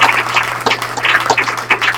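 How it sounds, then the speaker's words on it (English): An audience at a business meeting claps together in a steady, fairly loud patter of many hands that lasts throughout, with no speech over it. "You guys deserve a round of applause for that."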